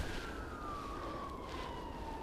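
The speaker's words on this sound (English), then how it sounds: "God, there's ambulances everywhere" An ambulance siren wails steadily in the distance, slowly dropping in pitch as it passes along a main road, over low outdoor rumble beside the water.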